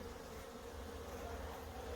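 Honeybees buzz around hive frames in a dense, continuous drone that holds steady and close for the whole stretch, with no voices.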